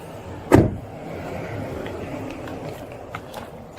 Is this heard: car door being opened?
yes